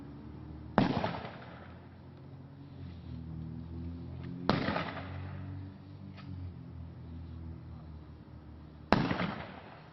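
A Memorial Day firing detail fires a ceremonial rifle volley: three sharp, loud reports spaced about four seconds apart, each echoing briefly outdoors over a soft ambient background.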